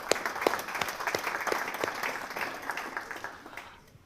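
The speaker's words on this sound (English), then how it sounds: "let's give a big round of applause for Keith Raymond for being up on the stage" An audience claps and applauds steadily, a crowd's applause that gradually fades out toward the end.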